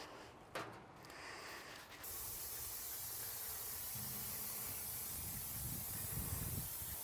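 Oil mist sprays steadily onto a new Yoder YS640s pellet grill, a continuous near hiss with a short burst at the start.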